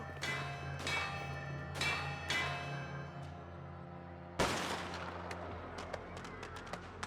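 Gunfire in the video game Mafia: The Old Country, a run of loud ringing shots with long decaying tails, then a sharp blast followed by quicker, smaller rapid cracks.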